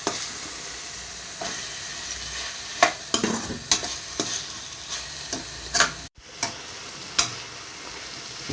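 Tomato pieces frying in a pan, stirred with repeated sharp scraping strokes over a continuous sizzle, close and fairly loud, with a brief break partway through and no talking.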